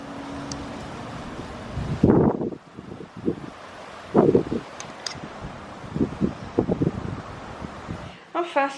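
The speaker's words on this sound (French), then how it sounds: "il y a un sacré vent, faut que je vous montre" Gusty wind buffets the microphone in loud bursts, with rustling between gusts.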